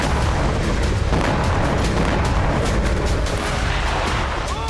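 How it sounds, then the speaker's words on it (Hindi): Explosions from Russian drone strikes on an airfield in Kyiv roll together into a loud, continuous barrage of deep booms and rumbling blasts, with no voices. "रूसी सेना ने कीव में एयरफील्ड पर ड्रोन की वर्षा की, धमाके से एयरफील्ड के पास आग लग गई।"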